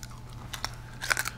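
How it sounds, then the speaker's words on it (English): Close, quiet crunchy chewing: a few crisp bites and mouth sounds in a short burst, with no talking. "Is he done chewing?"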